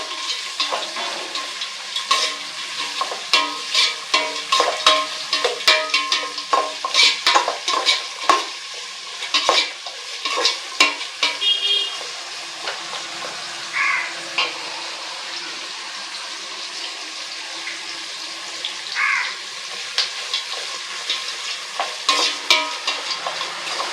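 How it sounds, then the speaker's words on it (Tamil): Onions frying and stirred in a pan for chicken leg biryani, a steady sizzle with repeated scraping stirs throughout, close and fairly loud, with no talking. "வெங்காயம் நல்லா பொன்னிறம் வர அளவுக்கு நல்லா வதங்கட்டும்."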